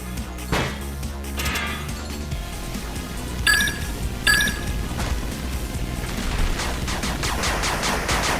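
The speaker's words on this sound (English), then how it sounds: "Open fire. And you can see how quickly my infantry dies to these turrets." Turrets and infantry trade gunfire in the RTS video game 8-bit Armies: rapid bursts of shots with metallic clinks and crashes, a few sharper volleys standing out over a busy battle din.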